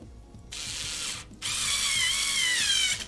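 A power screwdriver drives screws into a PC case during a build, two short whirring bursts close by with a brief pause between them and a faint background murmur.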